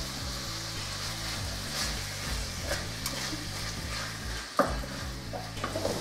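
Beef pieces and onion cook together in a pot for goulash, giving a steady soft sizzle with occasional utensil scrapes and one sharper knock near the end.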